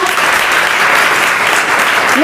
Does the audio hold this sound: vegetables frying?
no